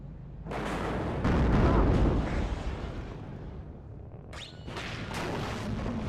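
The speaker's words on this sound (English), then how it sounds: "Mortars are on their way" Mortar fire in the strategy game WARNO: heavy booming blasts and rumbling explosions rolling one after another at close range, with a loud burst early on and sharper cracks near the end, no talk over them.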